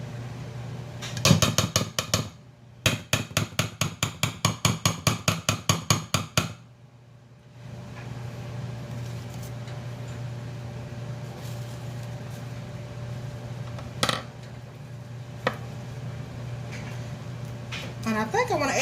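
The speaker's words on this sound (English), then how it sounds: "I'm going to mix it all together" Cupcake batter whisked in a bowl for a blue velvet 4th of July cake, a quick run of rapid rhythmic taps against the bowl, then a quieter stretch with a steady background hum and a few isolated knocks.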